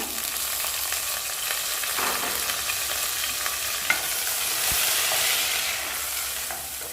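Continuous hissing sizzle of onion paste frying in hot oil for a crab masala, with occasional stirring scrapes and clicks, close and steady throughout.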